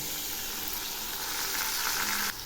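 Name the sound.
spices frying in a pan with a little water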